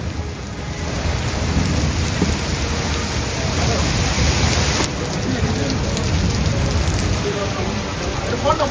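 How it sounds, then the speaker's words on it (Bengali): Heavy midday rain pours down in Kolkata, a dense, loud, continuous hiss of rain hitting surfaces with deep rumbling underneath and a sharper crack near the middle. "স্বস্তির বৃষ্টি নামলো ভর দুপুরে"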